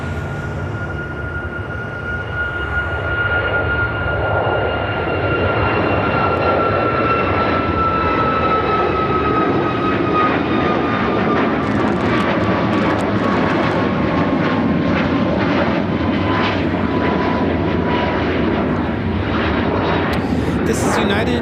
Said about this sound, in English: This is United Airlines 1830 taking off to Washington Dulles on the MAX 8.